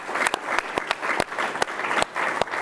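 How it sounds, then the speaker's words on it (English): Sustained audience applause for student fellows ambassadors at a university event, a thick crackle of many hands with a few louder, nearer claps standing out against the steady roar. "let's take a moment and give all of our fellows ambassadors a round of applause"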